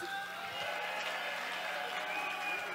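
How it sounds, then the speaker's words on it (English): A crowd claps in a steady, dense patter of applause, moderately distant, continuing evenly throughout, at a startup pitch night. "let's give this group another round of applause."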